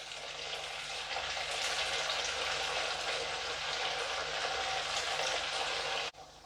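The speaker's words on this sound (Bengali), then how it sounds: "এবার আমি এর মধ্যে কাটলেটগুলোকে ছেড়ে দেব এক এক করে।" Poha veg cutlets fry in hot oil in a wok over a low flame, giving an even, continuous sizzle at close range that cuts off abruptly near the end.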